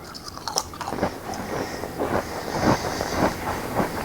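Smoked Cheez-It crackers coated in a barbecue rub are bitten and chewed close up, giving a steady series of crisp crunches over about four seconds with no talking.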